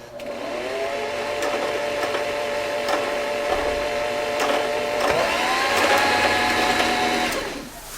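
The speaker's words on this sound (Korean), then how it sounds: "전원을 켜신 상태에서 발판을 밟아 밑실을 감아 주시면 됩니다" A Singer 3229 sewing machine motor whirs steadily while winding a bobbin, rising slightly in pitch near the end before spinning down.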